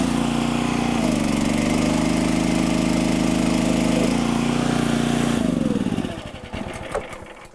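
RuggedSplit 700-Series log splitter's gas engine running steadily, a loud, close, continuous chugging drone with slight pitch shifts, dropping off and sputtering down near the end.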